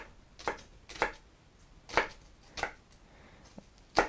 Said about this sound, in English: And then we need to chop it up really thin